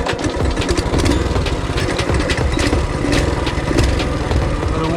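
A small engine on a Coleman full-suspension mini bike idles while warming up, a close, steady putter with a fast, uneven beat.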